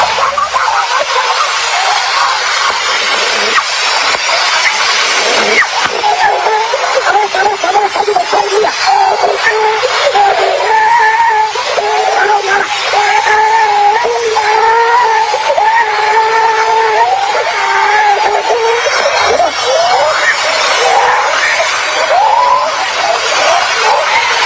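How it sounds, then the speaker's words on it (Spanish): Eerie, wavering wails and moans recorded from a deep borehole rise and fall through a loud, hissing wash of noise, like many distant voices crying out together. "y este es el sonido de las voces de almas en pena."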